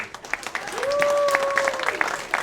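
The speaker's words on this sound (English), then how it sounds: "Let's have a nice round of applause for Stephen Brown" Applause breaks out at an awards banquet in New Smyrna for a fourth-place Bomber A division driver, scattered clapping from a crowd with a sustained whistle or tone running through the middle.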